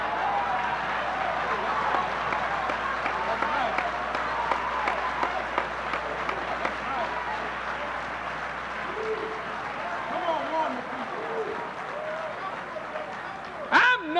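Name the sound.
audience applauding a speech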